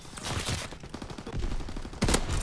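Sharp rifle shots from the lever-action sniper rifle in Call of Duty: WW2, two distinct loud reports about a second and a half apart, over busy game ambience with no talk.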